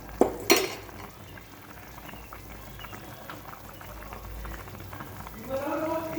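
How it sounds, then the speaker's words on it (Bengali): Fried potatoes drop into a pan of simmering drumstick curry with sajne data, giving two sharp clattering plops near the start, then a steady low bubbling simmer and faint stirring, with a voice talking quietly. "এখানে ভেজে রাখা আলুগুলো দিয়ে দিচ্ছি।"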